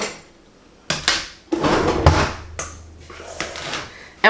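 In a home kitchen, someone grabs a cutting board and knife for canning lemons and jalapeños: a series of close wooden knocks, a clatter and scraping handling sounds, with short pauses between them.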